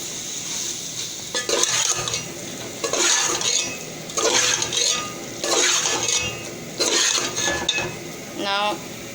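Cabbage curry is stirred in a pan over a high flame, with a steady sizzle under five or six rhythmic bursts of spoon scraping, close and fairly loud with no talk.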